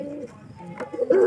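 A pigeon nesting in an upstairs room, brooding its chicks, gives a short, soft, low cooing call close by.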